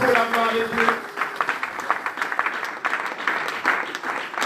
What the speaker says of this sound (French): Acclamons très fort pour la gloire de Dieu.